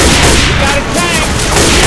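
Dense gunfire in Left 4 Dead 2, several weapons firing in a continuous loud barrage at a Tank during a rainy Milltown level, with booming impacts and game voices mixed in.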